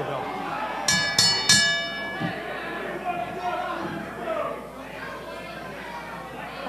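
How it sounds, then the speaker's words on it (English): A bell at a wrestling event clangs three times in quick succession over crowd chatter and talk, then the noisy arena crowd carries on. "Ring the bell."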